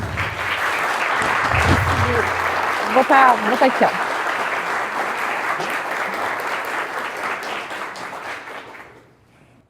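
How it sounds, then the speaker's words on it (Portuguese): An audience at a university lecture hall applauds a federal deputy's arrival with sustained, steady clapping. A voice speaks briefly over it partway through, and the applause fades out near the end. "uma salva de aplausos"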